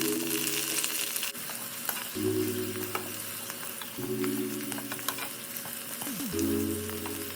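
Coconut pieces, shallots, garlic, ginger, green chilies, curry leaves and dried chilies fry in coconut oil with a steady close sizzle and frequent stirring scrapes, while a low tonal hum starts and stops in the background.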